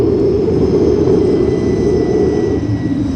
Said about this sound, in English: As landing jets churn the desert, flinging sand 100 feet into the air, the ship settles on Bravo 74.